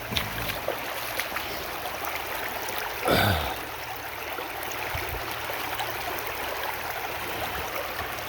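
Water rushing through a new gold prospecting sluice at Indiana Creek, a steady broadband wash of flowing water throughout, with a brief louder splash or surge around the middle.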